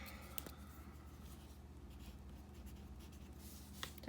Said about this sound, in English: Let me write on there.